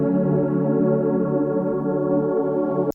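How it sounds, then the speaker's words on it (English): A synth pad built from a fundamental wavetable holds a warm, full chord for about three seconds, then cuts off abruptly, with no talking. "If I play the fundamental wavetable without the sample,"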